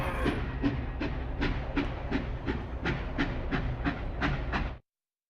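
Train passing in a video game cutscene, a steady rolling rumble with regular clickety-clack beats of the wheels over rail joints, loud and continuous with a faint hiss, cutting off abruptly near the end.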